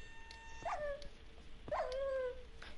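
A dying dog that may have drowned gives two drawn-out, high, wavering whimpers about a second apart. The whines are close and fairly clear over a quiet background, and no one speaks.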